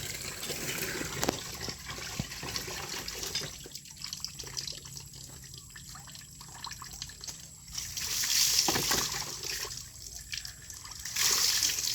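Water is scooped and poured over someone during a bath, making splashing, trickling bursts near the start and again toward the end, with quieter dripping between the pours.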